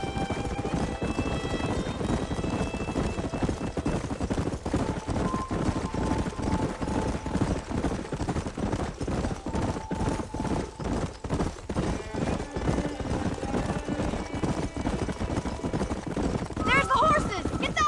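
Rapid, steady clip-clop of galloping horse hooves in the video game Red Dead Redemption, with voices talking over the rumbling hoofbeats throughout.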